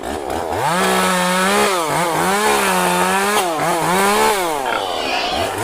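A chainsaw roars loud and close in a horror setting, revving up and down in repeated surges with a harsh, gritty buzz that never lets up.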